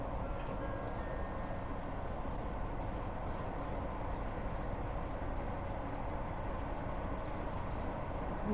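Train Sim World 6 train running, a steady low rumble with a constant rolling roar and no distinct clacks, moderately quiet and unbroken throughout.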